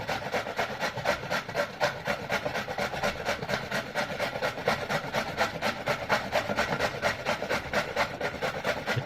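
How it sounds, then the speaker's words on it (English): Ash gourd pieces for halwa are rubbed over a grater in a fast, even back-and-forth rhythm, a continuous close rasping scrape that runs steadily throughout with no voices. "So we're going to grate the pieces."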